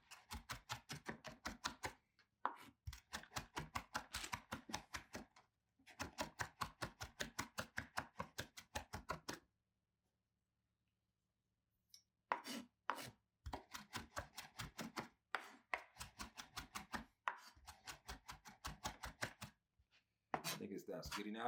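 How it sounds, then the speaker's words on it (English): Rapid rhythmic knife chopping of green seasoning herbs on a cutting board, close and crisp, in long bursts broken by short pauses. "You chop up everything into one."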